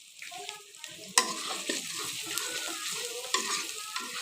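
Ground spices (radhuni, coriander and cumin powder) fry in a pan for an egg and new-potato curry, giving a steady close sizzle with stirring scrapes and a sharp utensil clack near the start and again later; no one talks.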